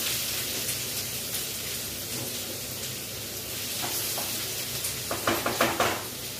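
Onions and other ingredients frying in hot oil in a pan for arbi ki sabzi, a steady soft sizzle with a few louder crackling pops near the end, no voices.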